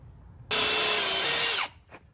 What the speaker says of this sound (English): So we're going to drill a clearance hole from here to the miter.